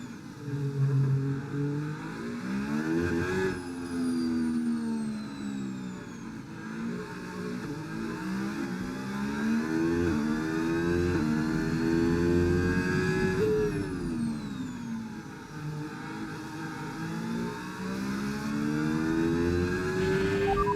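A Formula 1 car engine in the F1 25 game screams at high revs around the Singapore street circuit, rising through gears with repeated upshift drops and a downshift dip, loud and continuous with no talk.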